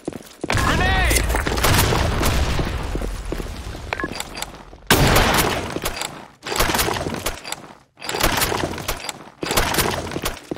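Video game grenade explosions come as several loud, broad bursts with crashing, shattering debris and gunfire between them. Shouted voices break in, and the blasts are separated by short gaps.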